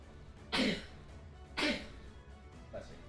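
Two loud, close sneeze-like bursts about a second apart, followed by a fainter third one, heard during a tabletop roleplaying game session with quiet room tone between them.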